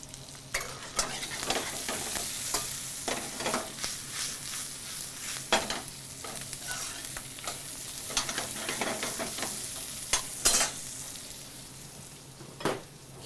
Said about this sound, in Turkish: Şimdi havuçlarımızı ilave edeceğiz. Biraz da onları kavuracağız.